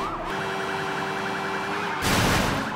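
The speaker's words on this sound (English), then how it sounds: "Gotta play the siren." A police motorcycle siren wails steadily in the Sleeping Dogs video game, loud and close, over engine noise, then a sudden burst of louder engine or crash noise near the end.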